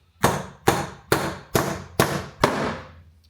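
A hammer strikes a nail six times in a steady rhythm, each hit a sharp, loud, close crack that rings out briefly before the next; no talk.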